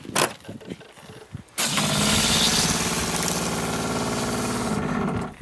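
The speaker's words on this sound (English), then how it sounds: "Hear the pump run. It's filling the system" An electric water pump for a camper van's shower system switches on after a few clicks and runs with a steady, loud mechanical hum close by until the clip ends.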